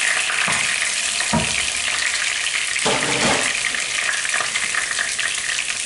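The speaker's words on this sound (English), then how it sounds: "I'll be frying the garlic." Garlic sizzling and frying in a pot for Spanish paella, a steady loud crackle close up, with occasional stirring scrapes and no talk.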